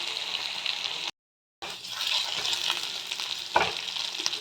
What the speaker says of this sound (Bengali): এবার দিয়ে দেবো বিনস। এবার একটু ভালো মতন ভেজে নেব।